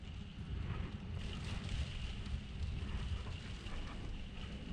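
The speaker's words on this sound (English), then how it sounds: "And then we get a big old gust here in a minute." Strong wind gusts buffet an RV camper, a constant rushing roar that swells slightly partway through, moderately loud and close with no talking.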